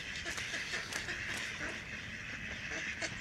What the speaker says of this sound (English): the ducks are back out in force again today